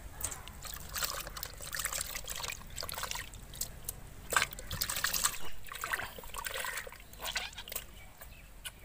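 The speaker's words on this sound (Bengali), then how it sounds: "এবার আমি মাছটাকে ধুয়ে নেবো দু চারবার ভালো করে।" Water trickles and splashes irregularly as freshly cut fish is washed by hand. The sloshing is close and fairly soft, rising and falling in uneven bursts.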